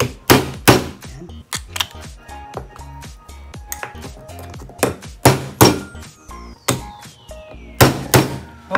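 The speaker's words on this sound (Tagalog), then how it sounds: "Pasensya na kayo, medyo maingay yung paghampas ko." Crab shells being pounded while preparing ginataang alimango: loud, close, repeated hard thuds and knocks in an irregular rhythm, with bursts of several quick strikes and no talking.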